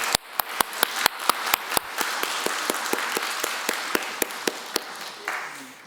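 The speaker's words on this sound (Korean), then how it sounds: "다시 한번 감사의 박수 하도록 하겠습니다." A church congregation at Sunday worship claps in thanks, sharp separate hand claps in an uneven rhythm over a soft wash of scattered applause, fading out near the end.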